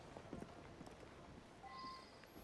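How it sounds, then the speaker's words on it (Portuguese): Horse hooves clip-clop faintly in Assassin's Creed Syndicate, a few soft uneven hoof knocks over quiet game ambience. "Ah, um cavalo?"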